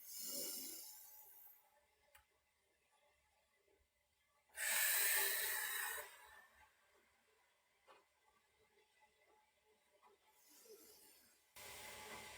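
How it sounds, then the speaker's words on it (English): Slow deep breaths during yoga practice, a few long airy inhales and exhales separated by quiet pauses, close and soft with no talking. "full deep breaths"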